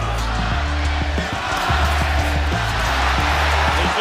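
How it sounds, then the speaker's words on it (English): Dense arena crowd roaring and chanting for Marquez at a Timothy Bradley vs Manuel Marquez boxing match, a loud continuous swell with rhythmic pulses throughout. "There's the crowd"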